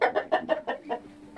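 Chickens cluck in a coop in a quick run of about six clear, close notes, followed by a softer tail.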